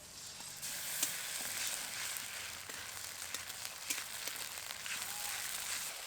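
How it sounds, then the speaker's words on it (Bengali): Ground spice paste frying with onions and a bay leaf in a pan, a steady soft sizzle with occasional light crackles and stirring scrapes, fairly quiet and close. "এখন এর মধ্যে দিয়ে দেব বাটা মশলা।"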